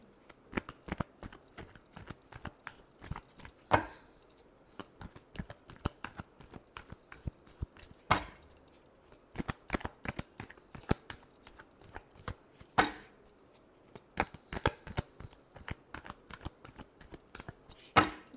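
Tarot cards shuffled by hand in a long run of crisp riffles and slaps, with a few louder snaps standing out from a steady, close, unhurried rhythm.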